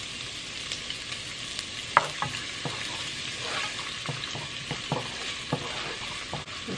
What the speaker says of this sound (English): Get my oil heated. Add my onions to saute.